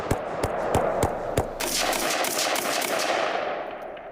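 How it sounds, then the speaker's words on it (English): Five sharp gunshots crack in quick succession, then a dense roar of sustained gunfire that gradually fades, loud and close. "he nearly lost his life in a hell of gunfire from a man he stopped for speeding"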